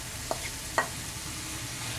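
Grated papaya stirred into cooked spices and oil in a pan for a vegetarian Bengali papaya ghonto, with two soft scraping taps of the spoon over a quiet sizzle.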